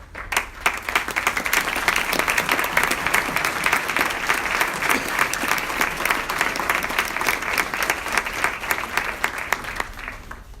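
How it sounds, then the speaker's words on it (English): A large audience at a scholarship gala applauds mentors as they stand, producing dense, sustained clapping that stays loud and steady for about ten seconds before tapering slightly at the end. "please stand up and receive a round of applause"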